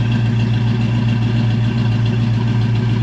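A black custom coupe's engine idles steadily up close, a loud low rumble with a slight rhythmic lope and no talking.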